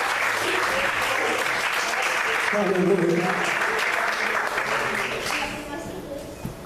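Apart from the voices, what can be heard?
audience applauding in church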